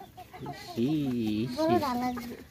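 A large Brahma chicken clucks up close, giving a few drawn-out, wavering calls that rise and fall in pitch.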